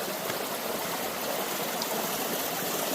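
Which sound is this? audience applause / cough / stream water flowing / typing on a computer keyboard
stream water flowing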